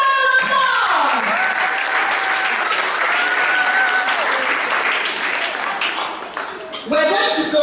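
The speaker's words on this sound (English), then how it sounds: "Give yourselves a round of applause!" Children at a school declamation contest clap together in a loud, continuous burst of applause, with sustained voice-like tones running over it; the clapping swells again briefly at the end.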